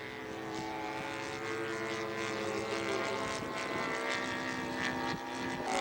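A scale model Albatross aircraft flies a descending circle, its engine a steady buzzing drone with layered harmonics, moderately distant and gradually growing slightly louder.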